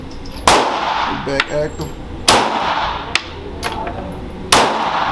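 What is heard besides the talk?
Glock pistol gunshots at a shooting range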